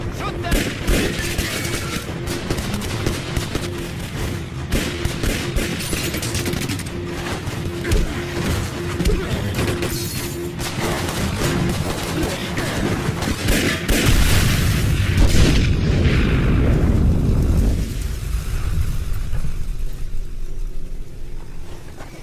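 Loud, dense volleys of gunfire and heavy explosive booms from an action movie battle scene roll on continuously, with a vehicle engine and brief shouting mixed in.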